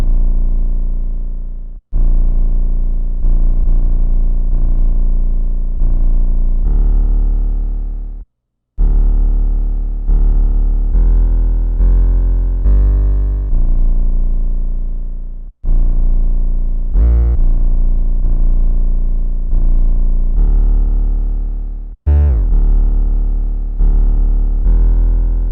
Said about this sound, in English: we have the 808 pattern, which is essentially just following the root notes of the chord progression